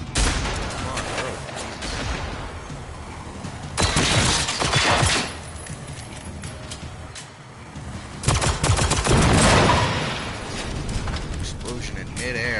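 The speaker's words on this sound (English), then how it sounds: "Explosion in midair." Bursts of heavy gunfire and a booming midair explosion in the shooter game Generation Zero, coming in two loud clusters over a steady rumbling background while a player talks excitedly.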